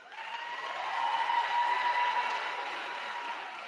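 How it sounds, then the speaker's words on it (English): A graduation audience at Lincoln University applauds and cheers for a daughter, a broad, sustained wash of crowd noise that swells in the middle and eases slightly toward the end, with no talking. "Clap for her."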